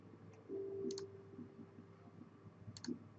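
Computer mouse clicking during Active Directory user and computer management, two quick double clicks a couple of seconds apart, faint and close, over a low hum.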